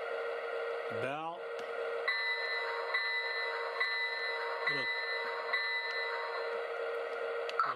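Lionel LionChief Plus model train sounding its bell, a steady ringing tone with bright overtones running continuously at close range, with a short horn-like swoop near the start and another midway.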